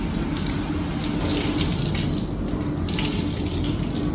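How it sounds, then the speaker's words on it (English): A cleaning towel is rinsed under a steady stream of tap water splashing into a sink, continuous and close with slight fluctuations as the cloth moves through the flow. "rinse the towel in between sections"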